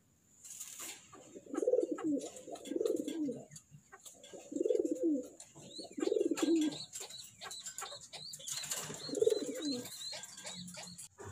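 Racing pigeons coo close by, about half a dozen soft, throaty rolling calls repeating at a steady, unhurried pace, with faint chirps and background noise between them.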